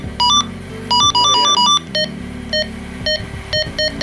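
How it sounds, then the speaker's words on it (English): Tonal electronic beeps from a Midland GXT1000G two-way radio, a series of short, clear pulses in irregular groups with a low background hum, close and loud. "that's another beep"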